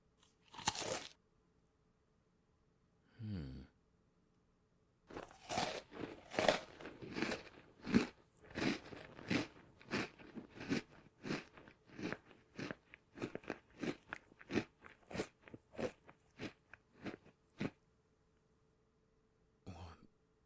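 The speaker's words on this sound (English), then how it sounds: "Do cookies always taste that good?" Close crunching and chewing of sweet cookies, a burst of crisp bites and mastication lasting several seconds after a brief cough or throat-clearing, fairly quiet overall.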